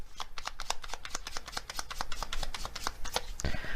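A deck of advice cards is shuffled close up in a steady, rapid run of crisp riffling flicks that keeps going for several seconds with no talking over it.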